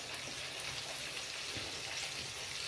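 Quail pieces frying in hot oil in a pan for kada biryani, a steady dense crackling sizzle close by that runs without a break and has no voices over it.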